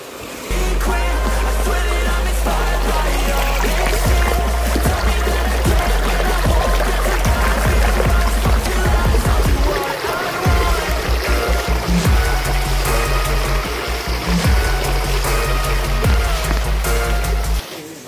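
Water pours down a mountainside at a waterfall after rain, a loud, continuous rushing roar that stays close and steady throughout, with no pauses.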